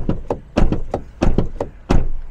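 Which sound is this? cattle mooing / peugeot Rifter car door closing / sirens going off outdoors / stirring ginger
peugeot Rifter car door closing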